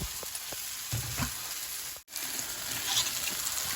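Ground coriander, cumin and Kashmiri chili powders fry in hot oil for a Hyderabadi brinjal curry (bagara baingan), sizzling steadily and close with a few soft stirring scrapes and a brief cut-out midway.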